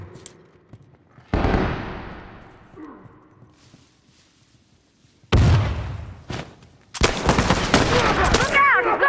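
Rifle gunfire in a video game: a single sharp close shot with a decaying echo, quiet gap, another heavy blast with follow-up cracks, then a dense rapid burst of shots to the end, with shouting mixed in.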